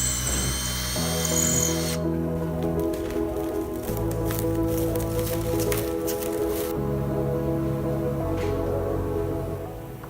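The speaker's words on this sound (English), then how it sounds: "Using stainless steel fasteners, we then securely fasten the brackets to the wall." A power tool drives stainless steel fasteners into wall brackets for a 30-foot brewery bar, in several steady whirring runs of a few seconds each with brief pauses between them.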